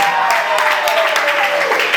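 An audience at a televised reality show finale claps in a dense, steady burst of applause that fills the whole moment, with a voice faintly mixed in.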